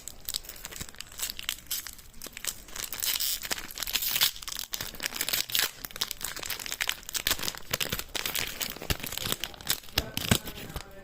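A package is opened by hand, with plastic wrapping crinkling and tearing continuously, close and fairly loud, with no speech.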